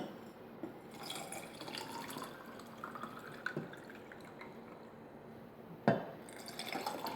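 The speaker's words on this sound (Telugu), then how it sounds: "ఇప్పుడు మనం జ్యూస్ వేసుకుందాం" Juice is poured into a sabja seed lemon drink in a glass. A faint, quiet trickle and dripping of liquid runs throughout, with one sharper clink near the end.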